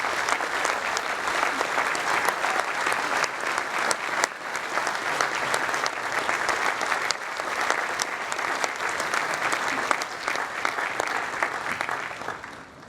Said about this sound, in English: please join me in giving another round of applause to President Faust